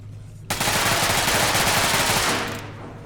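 Video game gunfire, a sudden sustained burst of rapid automatic shots lasting about two seconds, loud and close, then tapering off.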